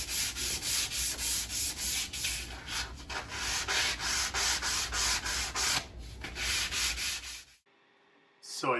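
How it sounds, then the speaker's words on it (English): Sandpaper of 180 grit rubs back and forth across the bottom of a wooden bandsaw sled in steady, rhythmic loud strokes for several seconds, then stops abruptly. "So I just got done sanding the bottom part of the sled with 180 grit sandpaper"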